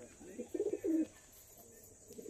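A pair of red pigeons kept at home cooing indoors in a few soft, throaty bursts close by, over a low room hum and faint background noise.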